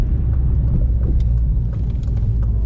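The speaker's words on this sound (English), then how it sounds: "Alright guys, we hitting the highway right now." An 8th-generation Honda Civic Si heard from inside the cabin as it drives onto a highway: a loud, continuous low engine and road rumble with no talking.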